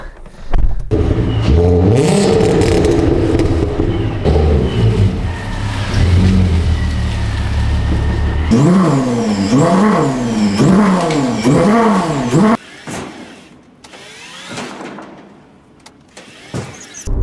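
A supercharged Mk4 VW Golf R32 engine revs hard at close range, rising and falling in repeated loud sweeps with supercharger whine, then cuts to quieter idle and rumbling.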